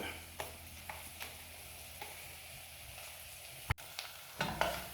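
Sausages and onions fry slowly in a pan for bangers and mash with onion gravy, a steady close sizzle with occasional spatula taps and stirs scattered throughout.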